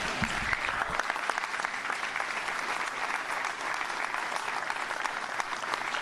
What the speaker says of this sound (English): But not after I get a little bit more polite applause.